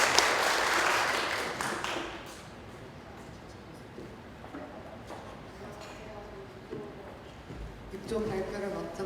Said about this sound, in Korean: 이 모시는 정도 민망하니까 박수 한번 드릴까요?